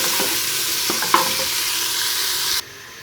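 Finely chopped tomato stirred into a frying masala for dal chawal: a steady broadband sizzle with a few spoon scrapes and one sharp clink, cutting to a quieter hiss near the end.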